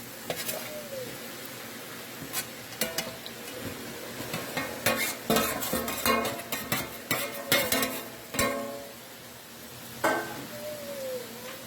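A spoon stirs mango pieces into a sizzling Trinidad-style mango chutney in a pot, with a flurry of scraping strokes and clinks over a steady background fry.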